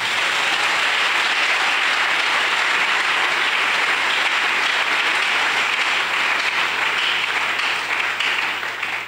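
A church congregation bursts into loud, sustained applause, a dense wash of many hands clapping together that holds steady for several seconds and fades slightly at the end.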